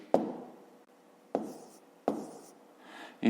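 Pen or pencil writing by hand on paper during a fifth-grade maths exercise: a few distinct scratchy strokes in separate bursts, close and moderately loud, with no talk.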